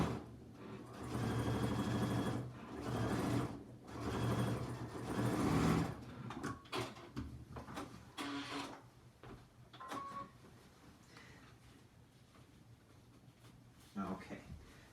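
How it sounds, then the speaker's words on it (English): A sewing machine stitches a zippy clutch in short bursts of whirring that start and stop, fairly close, and give way to quieter handling noises later on. "We're going to come through. We're going to sew."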